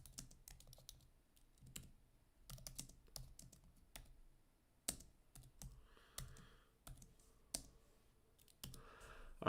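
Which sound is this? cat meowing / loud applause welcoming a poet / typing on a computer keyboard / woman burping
typing on a computer keyboard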